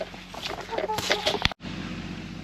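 Backyard chickens clucking close by in short, uneven bursts, with a low steady background hum and a brief sharp knock near the end.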